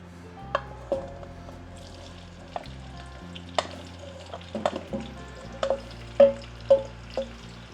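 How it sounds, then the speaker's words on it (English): Carrots and peppers fry in avocado oil in a pan with a soft steady sizzle, punctuated by close, sharp clinks and scrapes of stirring that grow busier toward the end. "Add our carrot and our peppers"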